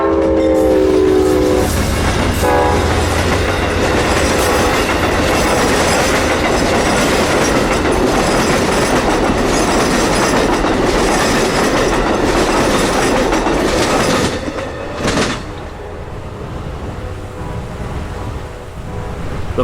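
Amtrak 91 passenger train passing over a railroad switch in Florida, a loud close roar with rhythmic clatter of wheels over the track, a horn blast at the start, fading near the end.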